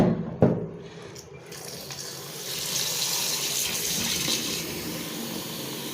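Tap water runs steadily into a sink or bowl to soak cut vegetables, a continuous close hiss and splash that follows a brief knock at the start and holds at a constant level.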